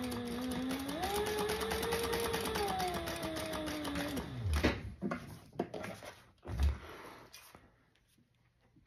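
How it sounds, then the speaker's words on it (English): A sewing machine stitches across the bottom of a slot, its motor whirring in a rising and sliding hum for about four seconds, then stopping with several close clunks and handling knocks. "we will sew across that on the bottom of the slot"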